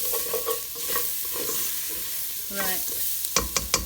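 Curry spices fry on low heat in a pan beside an aubergine and potato dish, with a steady sizzle and rhythmic spoon scraping that quickens into sharp clacks near the end; a voice speaks briefly.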